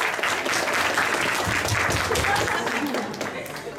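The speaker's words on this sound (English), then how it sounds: "let's give him a huge round of applause" Audience applause at a speech evaluation meeting, a steady dense wash of clapping throughout, with background voices mixed in and easing slightly near the end.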